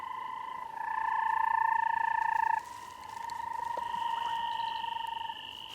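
A rare banded rubber frog calls from bushes in Namibia with two long, steady, high trilling notes, one after the other. The calls sound moderately close over a faint hiss of background noise.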